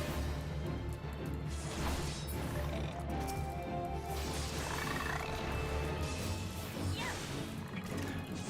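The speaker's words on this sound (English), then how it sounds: "Funky little guys and their weird croaking noises." Small creatures in Final Fantasy XIV croak repeatedly amid game action, with rough croaking calls and occasional crashing hits over a dense, continuous game soundscape.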